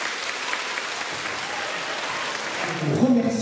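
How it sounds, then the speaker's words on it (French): Schoolchildren and guests at a book-prize ceremony applaud the winning author, steady moderate clapping that swells slightly near the end as a voice begins to speak over it. "Nous pouvons bien l'applaudir."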